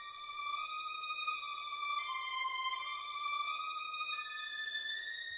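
A simple dark melodic phrase from an Arcade synth preset, sustained tones stepping between a few pitches with bright overtones, steady and upfront with no voices.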